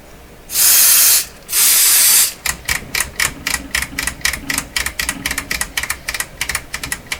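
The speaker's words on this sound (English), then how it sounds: "we'll hit it first with contact cleaner" Two long hissing bursts of contact cleaner sprayed into an RCA Victor A23 tube radio, followed by a fast run of sharp mechanical clicks, close and loud with no voices.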